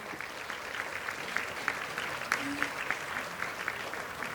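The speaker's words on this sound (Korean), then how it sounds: "모든 분께 큰 박수 부탁드립니다." Moderate, even applause from an audience at the opening ceremony of an international conference on intangible heritage, steady clapping heard from a distance in a large hall.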